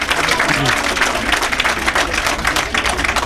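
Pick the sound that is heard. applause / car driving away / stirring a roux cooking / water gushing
applause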